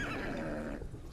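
A black horse in the video game Ghost of Tsushima lets out a single short, faint whinny, quiet and brief.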